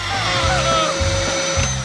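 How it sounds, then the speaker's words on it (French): A vacuum cleaner runs with a steady whining motor drone, close and fairly loud, holding constant throughout with slight fluctuations in pitch. "Ouais, un aspirateur!"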